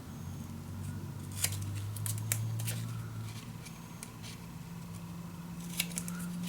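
Scissors snip a small corner off paper or card in a papercraft storage-box project, giving several quick close crisp cuts in short bursts over a low steady hum, with no talking.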